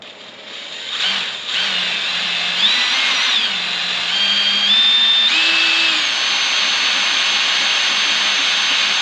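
A center drill bit grinds into metal while fabricating a snorkel from Ford parts, a steady loud whining power-drill drone with shifting squealing tones as the bit bites, running continuously throughout.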